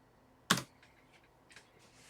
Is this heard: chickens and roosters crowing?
no